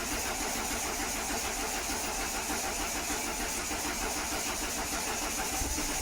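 A Citroen BX car engine turns over and catches, then runs with a steady, faint mid-pitched rumble and no talking.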